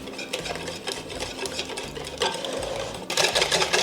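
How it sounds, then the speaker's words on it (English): Eggs and cream are whisked briskly in a bowl in a home kitchen, a close, continuous rhythmic whirring and clinking that grows louder toward the end, with no talking. "So we just need to whisk this up."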